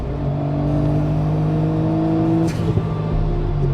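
A small Japanese sports car engine drones steadily with a rising rev, loud and close, a brief gear-change burst near the end.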